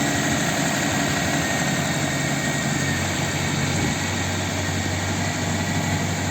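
A freshly rebuilt engine, just started after repair, idles steadily with a loud, even hum and rattle that holds constant throughout, with no talk.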